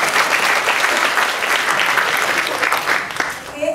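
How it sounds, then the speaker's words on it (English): Seminar audience applauds at a business success panel in Malaysia, steady dense clapping throughout that thins near the end. "give it a applause"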